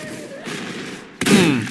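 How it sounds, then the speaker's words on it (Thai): A heavy booming cannon blast in the video game Last Dawn erupts after a stretch of rumbling noise, loud and close, its roar decaying over the final moments. "ขอบคุณเพื่อนที่ยิงปืนใหญ่"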